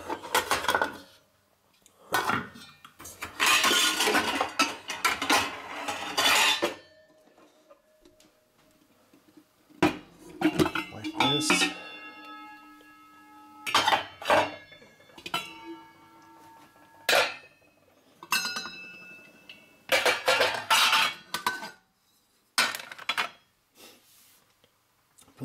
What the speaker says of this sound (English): when they're finished you tuck them away in another pot